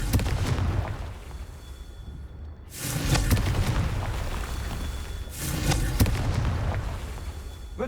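Confringo fire spell explosions in Hogwarts Legacy: repeated loud booming blasts and crackling bursts over a dense game soundscape, with a sharp hit near the start and two stronger bursts later.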